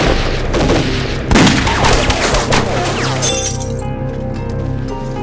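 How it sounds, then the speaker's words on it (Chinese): Gunfire from a volley in a war-film battle scene: dense rapid bursts of shots with sharp cracks and debris, loud and continuous, tapering into a ringing, lighter texture at the end. "集中火力，对面山坡，向着十一点钟方向开火"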